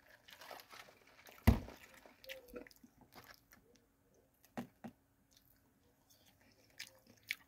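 Taco Bell nacho fries get bitten and chewed close up, with a few soft, crisp crunches scattered among quieter mouth sounds.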